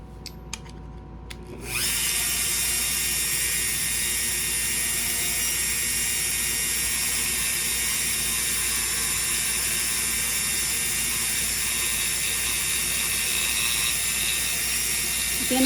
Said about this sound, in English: touching the wood, just letting the sandpaper do the job.